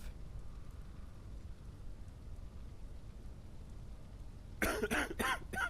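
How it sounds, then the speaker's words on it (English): In the video game Quarantine Zone: The Last Check, a few quick, harsh coughs burst out near the end after a long stretch of low, steady rumbling background noise. "You do have a cough."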